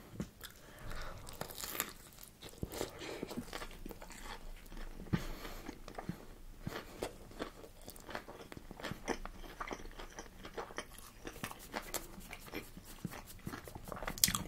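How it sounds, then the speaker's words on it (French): Crispy chicken tenders being chewed close up, repeated crunchy bites and mastication with crackling, uneven rhythm and no speech, fairly faint overall. "les tenders sont bien croustillants"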